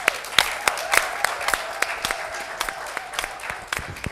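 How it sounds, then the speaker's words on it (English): An audience claps to welcome guests onto a stage, a thin scatter of distinct individual claps rather than dense applause, fairly close and moderately loud, with a faint background tone. "Can we welcome them with a clap?"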